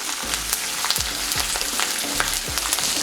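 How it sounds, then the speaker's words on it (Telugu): Curry leaves fry in a pan for curry leaf rice, a close, continuous crackling sizzle with low thumps and scraping strokes of stirring recurring every half second or so. "అయితే మనకి కరివేపాకు బాగా ఫ్రై అయ్యేంత వరకు ఉంచండి."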